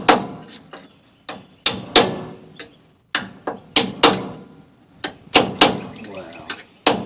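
A hammer repeatedly strikes the thin sheet-metal backing of drum brakes on a 1956 Bel Air, sharp, loud metallic clanks in an uneven rhythm with short ringing decays and brief gaps between blows.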